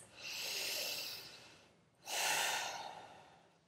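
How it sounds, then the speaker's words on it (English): Two slow, deep breaths during a prenatal yoga puppy pose, a long airy inhale tapering off, then a second breath swelling in, soft and close with no talking. "We'll take 5 breaths here to just breathe into the back of the"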